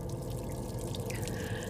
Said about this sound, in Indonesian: Gak lama Andre dengar air keran dari kamar mandi